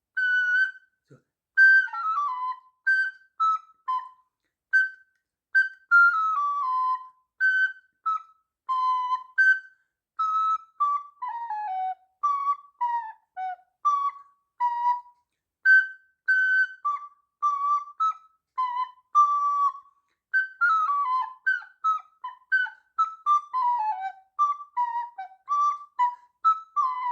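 Wind instrument, recorder-like, playing single notes slowly with distinct tonguing, each short whistly tone separated by gaps, forming a gentle melodic line that quickens toward the end, clear and close with no talking.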